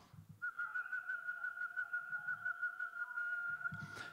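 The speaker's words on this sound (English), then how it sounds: "Can you do those repeated notes with a whistle?" Someone whistles at a brass masterclass, holding one steady pitch and articulating it into a quick run of evenly repeated notes for about four seconds, with a brief breathy sound at the end.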